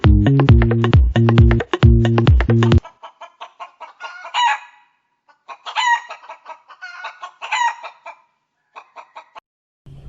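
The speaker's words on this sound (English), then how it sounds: "hen." A hen clucks in quick, uneven bursts of short clucks after a brief musical jingle, fairly close and clear with pauses between the bursts.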